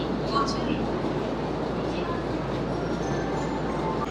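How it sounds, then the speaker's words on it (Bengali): A train pulls into a crowded station in Japan with a loud, continuous rumble and rushing roar that holds steady and close throughout, with no voices. "তো আমার ট্রেনটা ঢুকে গেছে এখন দেখি ট্রেনটা ধরবো ট্রেনটা দেখছি বেশ ভিড়"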